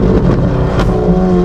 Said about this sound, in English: Welcome to the Aventador S with the eardrum piercing exhaust system.